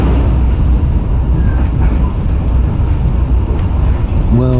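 A passenger train running on rails in Indonesia on the way to Banyuwangi, heard from aboard as a loud, steady low rumble with rhythmic clattering throughout, plus a faint whining tone near the end.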